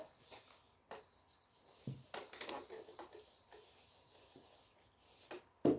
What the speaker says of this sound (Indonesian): Nah, yang atas Ibu hapus ya. Hapus dulu.